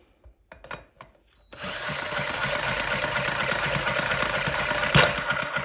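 A power drill whirs steadily and loudly after a couple of faint knocks, holding a constant high buzz with a brief surge near the end.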